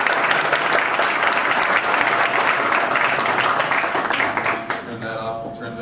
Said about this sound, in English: So let's give Kai a big round of applause.